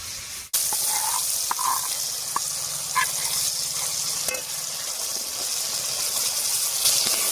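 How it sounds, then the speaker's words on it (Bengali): Water left from boiling drumsticks (sajne data) is poured into a cooking pan of fried spice paste, giving a steady rushing splash that starts abruptly and runs on continuously, close and fairly loud, with no talk. "সজনে ডাঁটা সেদ্ধ করার যে জলটা ছিল সেই জলটাই দেবো"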